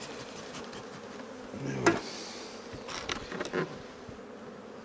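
Honeybees buzz softly on a frame lifted out of a hive, a low steady hum with a few brief closer passes, while a person says a couple of words.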